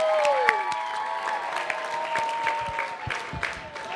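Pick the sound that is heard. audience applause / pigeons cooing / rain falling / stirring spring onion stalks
audience applause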